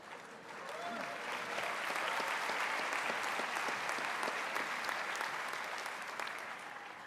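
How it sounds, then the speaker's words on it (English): Parents applauding at a George Brown convocation ceremony, a dense, sustained wash of clapping from a large crowd in a hall that swells, holds steady for several seconds and tapers slightly. "Is that the parents clapping"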